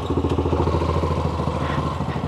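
A motorcycle engine runs steadily at close range with a throbbing low chug and clattery mid tones, ridden on a mountain tour near La Reina and Agua Caliente in Chalatenango, with no talking.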